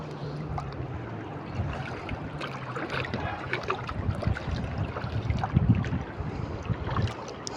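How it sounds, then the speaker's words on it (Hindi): Fast-flowing floodwater rushing downhill after very heavy rain, a steady broadband roar with some wind buffeting on the microphone, continuous and close throughout. "इस तरह पानी जा रहा है तेज़ गोली की तरह"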